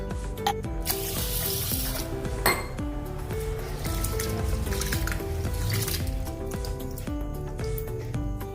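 Rinsing a bowlful of basmati rice in water inside a metal pot: clinking against the vessel, trickling and pouring water, close and continuous without speech.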